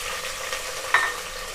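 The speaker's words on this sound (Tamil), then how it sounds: "வெங்காயம் சேர்த்துட்டு நல்லா வெங்காயம் ப்ரௌன் ஆகிற அளவுக்கு வதக்கிக்கணும்" Onions for vegetable biryani sautéing in a pan, a steady soft sizzle with a brief clink of stirring, close and quiet.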